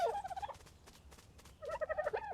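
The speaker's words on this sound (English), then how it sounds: "Excuse me, birds." Bird calls in ARK: Survival Evolved on The Island, warbling gobbling bursts at the start and again near the end, fairly close with a quieter gap between, and no talking.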